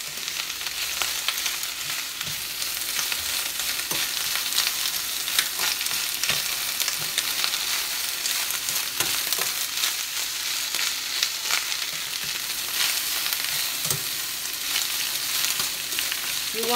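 Cabbage and tuna fry in a pan on the stove, a steady close sizzle and hiss with occasional stirring clicks, continuous throughout with no talking.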